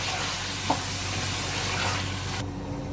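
Beef liver with lemon frying in a pan, a dense close sizzle with a sharp clink of the spoon while stirring, cutting out abruptly near the end.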